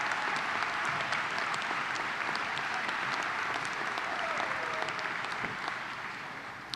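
Commencement crowd applauding alumni in a large hall, a thick sustained wash of many hands clapping that holds steady and tapers slightly at the end.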